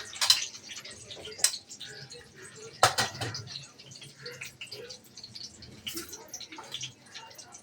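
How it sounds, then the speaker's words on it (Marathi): Mustard seeds and cumin spluttering in hot oil in a kadai make faint, scattered crackles and sharp pops, with a few louder snaps over a low background. "तेल तापायला ठेवलं कढईमध्ये, त्याच्यामध्ये मोहरी जिरं घालायचं फोडणीला."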